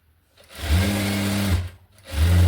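An electric sewing machine stitching a blouse runs in two bursts of steady humming motor and needle, the first about a second long, then a short pause before it starts again, close and clear with no talk.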